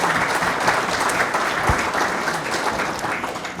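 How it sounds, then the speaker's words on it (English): Even, continuous applause from a seated audience at a talk, many hands clapping steadily at a constant moderate level throughout. "Can I get a round of applause for this?"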